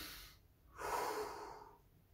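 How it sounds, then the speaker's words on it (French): One steady breath drawn in through the nose, a soft rushing inhale of about a second, close and unaccompanied by talk. "On inspire par le nez."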